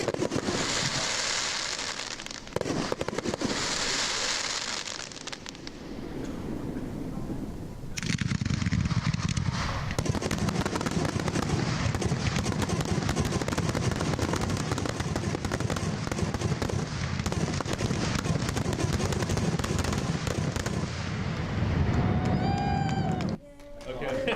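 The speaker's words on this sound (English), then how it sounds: "So if you missed the fireworks, here's the finale," A fireworks finale at a Rotary celebration, with a dense, continuous barrage of booms and crackling bursts that swell loudly and then stop, leaving a few fading whistles and crackles at the end.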